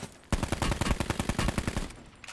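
Rapid automatic gunfire from the battle royale mode Blackout in the video game Black Ops 4, a dense burst of loud, evenly spaced shots lasting about a second and a half before cutting off, with no talk.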